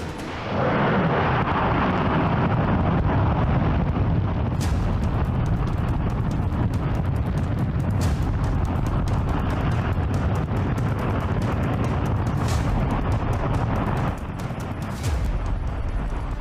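A NASA J-2X rocket engine roars through a long-duration test firing at a lower power level, heard as a loud, continuous, thundering rumble with crackling bursts that holds steady for many seconds.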